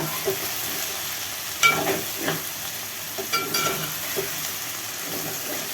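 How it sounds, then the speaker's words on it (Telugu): Okra (bendakaya) fries in a pan with a steady, close oil sizzle. Intermittent scrapes and taps of a stirring spoon against the pan punctuate the sizzle. "వేగుతున్నాయి. మొత్తం గట్టిగా ఫ్రై చేయ"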